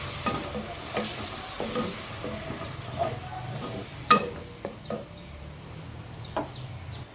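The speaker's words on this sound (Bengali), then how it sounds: "পেঁয়াজ বাটা দিয়ে দিলাম একটু নেড়ে চেড়ে নিই" Onion paste frying in a pan for chicken curry, stirred with a spoon: a low steady sizzle broken by intermittent scraping strokes and a few sharper clicks of the utensil against the pan, fairly quiet and close.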